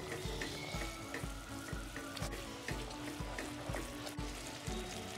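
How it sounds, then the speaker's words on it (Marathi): A pan of thick sugar syrup for ripe Totapuri mango sakharamba boils on a high flame, giving a continuous hiss with a regular rhythmic thumping, likely from stirring, and no talk. "पाक चांगला उकळायला लागलेला आहे."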